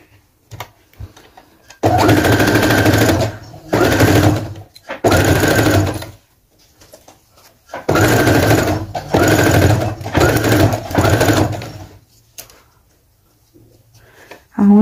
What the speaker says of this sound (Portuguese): E agora a gente passa essa costurinha aqui também.